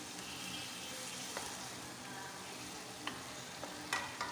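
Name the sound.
shrimp sautéing and sizzling in a pan with mung beans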